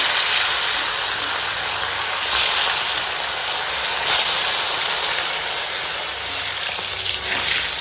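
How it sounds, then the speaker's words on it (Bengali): Fish pieces frying in hot oil produce a loud, continuous hissing sizzle with occasional brief surges of spattering, close up and without voices. "এখন বাকি মাছগুলোও ভেজে নেবো"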